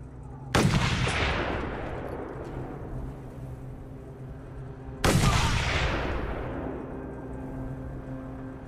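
Two heavy gunshots from the video game Mad Max boom about five seconds apart, each a sharp loud blast followed by a long echoing decay.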